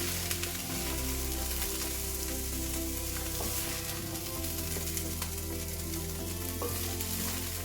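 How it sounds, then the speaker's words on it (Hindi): Broccoli and cauliflower pieces fry steadily in hot oil for mix vegetables, giving a continuous, fairly loud sizzle with a low background hum and no voices. "ब्रोकली और गोभी भी जो है वो हल्की हल्की सी फ्राई हो गई है"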